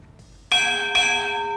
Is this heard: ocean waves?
no